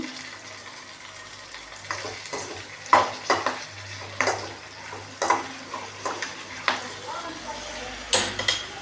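Chillies being sautéed in a pan for pickle, a low sizzle with repeated scraping and clanking strokes of a spoon against the pan, close and uneven.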